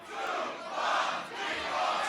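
A crowd at a beatbox battle cheers and shouts to vote, a dense, distant roar that surges twice over about two seconds.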